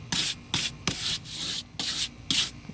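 Toilet brush with a scraper back scrubbing dirt out of wooden chicken nest boxes, five or six quick bristly rubbing strokes in an uneven rhythm, close and loud, no voices.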